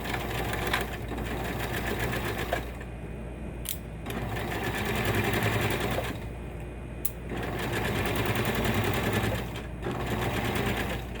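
A sewing machine stitches a 5/8 inch seam in fabric, running in close, steady bursts of rapid mechanical chatter separated by brief pauses, with no talking.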